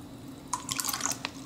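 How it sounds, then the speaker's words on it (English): Vodka pours out of its bottle in a short burst of glugging and splashing, close and fairly clear, starting after a quiet moment with no talk. "what you would need to do is pour some vodka out"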